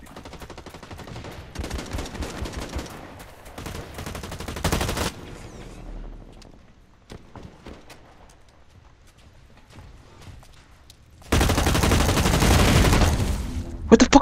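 Rapid bursts of automatic gunfire and single shots ring out in the online shooter Blacklight Retribution, loud and close, coming in dense clusters with short quieter gaps between exchanges and no one talking.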